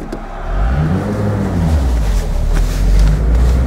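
A 1962 Mercedes 190 SL Roadster with drum brakes drives along, its engine a steady close rumble that swells slightly toward the end.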